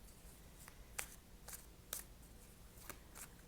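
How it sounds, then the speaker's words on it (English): A deck of playing cards being shuffled gives off faint, soft crisp snaps at irregular half-second intervals in a very quiet room. "I'm shuffling the cards now."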